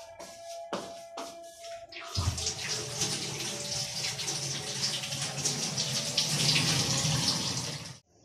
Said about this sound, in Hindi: मैं ज़रा हाथ धो के आती हूँ।